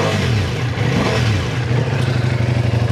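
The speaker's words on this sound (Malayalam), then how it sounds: "ഇതാണ് വണ്ടിയുടെ എക്സോസ് സൗണ്ട് കേട്ടോ." A Ducati Multistrada V4S motorcycle's exhaust roars loud and close as the engine is revved repeatedly, with a deep throbbing growl that rises and falls in short bursts.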